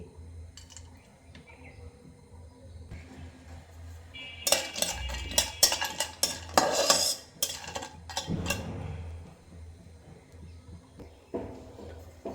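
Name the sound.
stirring and frying peanuts in a wok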